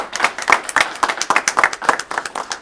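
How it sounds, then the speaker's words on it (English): Scattered clapping from a small group at a session meeting, a handful of distinct rhythmic claps close by rather than a dense roar. "Round of applause for you."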